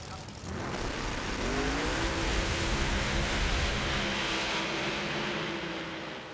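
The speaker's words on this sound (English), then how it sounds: "The supercharged car runs away from its opponent again" A supercharged methanol-burning 526 cubic inch Pro Mod drag car launches and tears down the strip, a loud sustained engine roar swelling and holding, with a commentator's voice faintly underneath.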